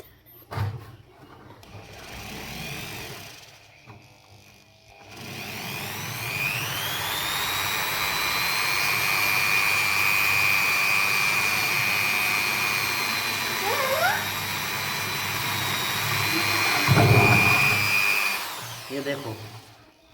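An electric drill machine bores a hole, its motor rising to a loud, high whine that holds steady for over ten seconds and then stops, with short bursts and quiet gaps before.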